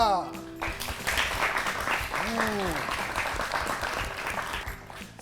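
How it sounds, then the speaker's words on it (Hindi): Studio audience on a children's quiz show applauding a correct answer, steady clapping running beneath an animated host's voice throughout. "तालियां"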